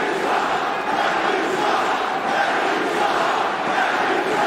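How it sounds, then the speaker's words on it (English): A basketball arena crowd at an NBA playoff game between the Raptors and Magic roars and jeers after a technical foul, a loud, dense, sustained wash of voices with no single speaker standing out. "Crowd now voicing their displeasure"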